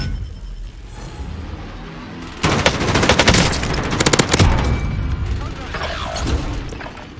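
Loud machine-gun bursts in Call of Duty Warzone, a plunder duo match, a dense volley of rapid close shots after quieter game ambience, trailing into scattered distant fire with talk mixed in.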